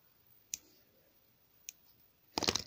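Scissors snipping a thin strand of crochet yarn, with two faint isolated clicks followed by a louder, brief cluster of close crisp cuts.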